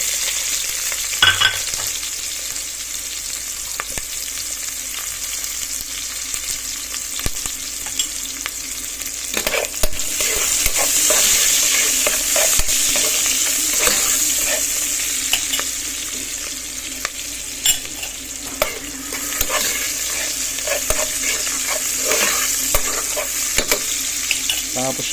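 Onions fry in a pan with a steady, fairly loud sizzle, while a spoon scrapes and taps occasionally as they are stirred.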